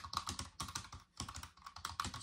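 Rapid typing on a cheap Wish keyboard with light-press keys, a close, quiet run of plastic clicks in quick bursts with a brief pause midway.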